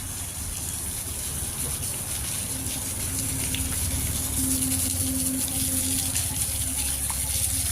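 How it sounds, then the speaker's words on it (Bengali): Water gushes and pours steadily at close range, a continuous loud rushing wash without pause. "পানি পড়তেছে পুরা।"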